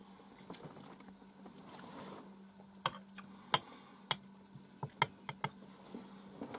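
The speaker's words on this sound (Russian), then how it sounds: "Мотор гоняют." Outboard motor idling steadily on a boat on a taiga river, a low constant drone with faint water sounds and several sharp clicks and knocks over it.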